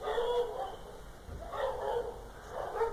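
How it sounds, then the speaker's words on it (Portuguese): A dog barks in short bursts at a distance outside a grandmother's house, with faint background noise between the bursts. "Barulho de cachorro, rapaz."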